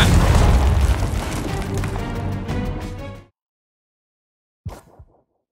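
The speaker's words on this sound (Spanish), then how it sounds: "¡Ya! ¡Lanza una granada!" Frag grenade blast in the video game Gears of War 4: a loud, heavy booming burst that rumbles for about three seconds before cutting out, followed by a brief fainter impact.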